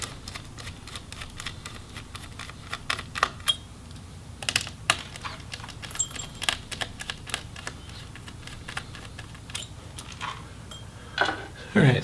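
A screwdriver backs screws out of the heatsink of an MSI GE62VR Apache Pro laptop, giving scattered sharp clicks and small metallic taps close by, with quiet talk underneath.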